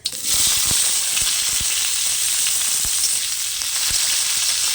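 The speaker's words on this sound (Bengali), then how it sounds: "ফোড়নটা খুব ভালো করে ভাজা হয়ে গেছে এবার আমি দিয়ে দেব কামরাঙা বা করভাঙা" Steady, loud sizzling of spices frying in hot oil, with occasional sharp pops and crackles throughout, as starfruit is added for chutney.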